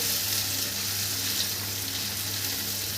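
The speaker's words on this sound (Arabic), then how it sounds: "نيجي نديله تشويحه كده مع نص معلقه كزبره ناشفه" Potatoes with dried coriander sautéing in a pan, sizzling steadily and close for the whole stretch, loud and dense with no voices over it.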